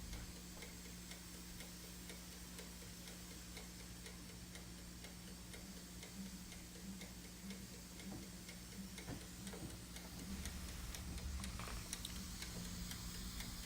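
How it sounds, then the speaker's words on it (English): Wolfgang Puck pressure oven timer ticking, a faint, steady run of evenly spaced clicks over a low background hum, continuing alone for several seconds. "that ticking sound that you hear is the timer"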